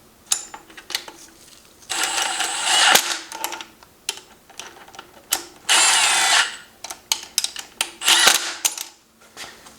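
Torque wrench and socket working on Subaru BRZ engine main crank bearing bolts, irregular metallic ratchet clicks and longer grinding ratcheting bursts, close and alone without talk.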